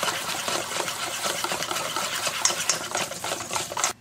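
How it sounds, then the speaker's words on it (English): Melted butter and cocoa powder get whisked together in a bowl, giving a steady, close scraping and swishing that runs without pause for the whole stretch. "combine with the butter with the cocoa, using with a whisk"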